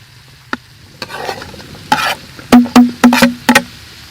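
Mushrooms fry with onion and carrot in a pan while a utensil clatters and scrapes loudly in quick bursts over a low sizzle.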